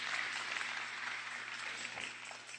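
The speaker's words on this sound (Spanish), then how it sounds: "dale un aplauso fuerte a Jesús" A church congregation applauding, a steady, fairly faint wash of clapping heard at a distance with a low hum beneath it, continuous throughout without speech.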